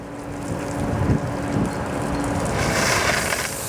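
A steady, loud rush of water spraying from a Haulmore tri-axle water tanker over rumbling engine and wind noise, swelling toward the end.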